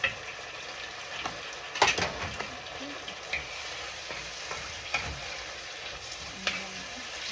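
Pork for pinakbet sizzles and fries in a pan, a steady low crackle punctuated by occasional scrapes and taps of a utensil stirring the meat.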